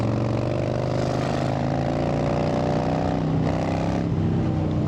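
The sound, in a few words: Harley-Davidson FXDWG motorcycle engine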